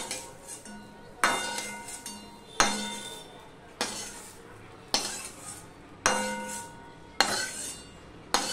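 Soybean chunks lifted out of a frying pan in a home kitchen, a utensil clinking against the metal pan in sharp, evenly spaced strikes about once every second, each followed by a brief ringing decay, close and clear with no talk.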